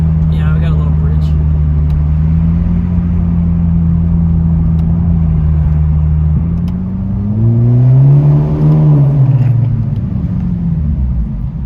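A small 4-cylinder car accelerates onto a highway, its engine droning steadily and then rising in pitch as it pulls harder, loud and close from inside the cabin.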